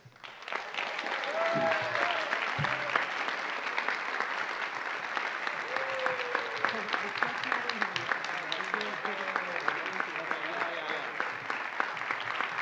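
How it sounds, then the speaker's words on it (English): A high school spring band concert audience applauds an award winner, sustained clapping that swells in quickly and holds steady for a long stretch, with scattered voices and murmurs mixed under it. "How about another round of applause for our award winners here?"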